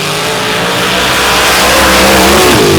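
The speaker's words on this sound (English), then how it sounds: "Now as Outlaw and the Chevy go side by side" Outlaw Pro Stock drag cars, including a Chevy, racing side by side, engines blasting in a loud, dense, rising roar that swells continuously through the pass.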